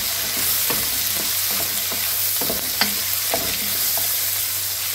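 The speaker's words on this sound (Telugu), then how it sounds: "ఉల్లిపాయలు కొంచెం మగ్గినట్టు వేగితే చాలు" Sliced onions frying in a pan for an okra and soya chunk curry, a steady loud sizzle with repeated scraping and knocking of a spoon as they are stirred, no voices.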